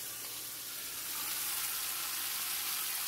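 Country ribs browning in a hot pan on a stovetop give off a steady, fairly loud sizzle and spatter that holds throughout, with no voices.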